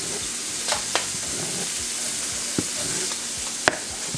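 Shrimp fry in a pan as sushi fillings are cooked, giving a steady close sizzle with a few soft clicks of stirring and utensil taps throughout and no talk.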